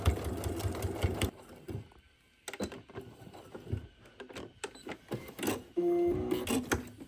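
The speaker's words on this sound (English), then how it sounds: "we're gonna sew a 1/2 inch seam right along this" A sewing machine runs a half-inch seam along a fabric tote bag, a steady mechanical whir in stretches broken by brief pauses and small clicks and handling noises.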